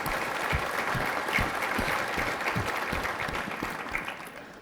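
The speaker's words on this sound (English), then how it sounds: "Let's hear a round of applause." Keynote audience applause in a large hall, steady clapping from many people at moderate distance, fairly soft and gradually thinning toward the end.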